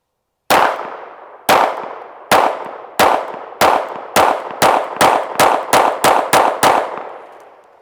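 Thirteen sharp pistol gunshots from a Shadow Systems CR920P, fired alone at a steady pace that speeds up toward the end. Each report is loud and close, with a short decaying ring.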